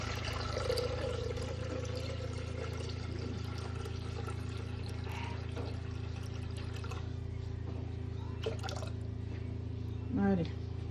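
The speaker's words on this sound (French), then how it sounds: "Donc on va mettre 1200 g d'eau." 1200 g of water poured into a Thermomix, a steady trickling pour under a constant appliance hum with a brief clink near the end, while a person speaks.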